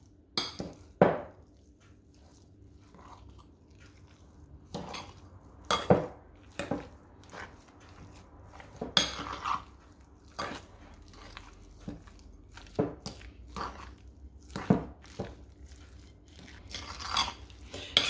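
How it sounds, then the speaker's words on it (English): Fork mixing ravioli filling with salt and pepper in a bowl, irregular clinks and scrapes of metal against the bowl with soft squelchy mixing, close and fairly quiet, no talk. "So just with a fork, we're just going to mix that all together."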